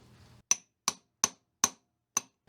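Five sharp metallic taps of a hammer on Corvair engine pistons, evenly spaced and close, each ringing briefly before silence, after a short low rumble.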